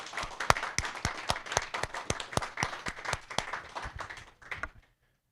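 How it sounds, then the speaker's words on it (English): A room's audience gives a short, lively round of clapping for two speakers at a developer meetup, dense hand claps building and then tapering off to quiet near the end. "let's give one final round of applause to both of our speakers today"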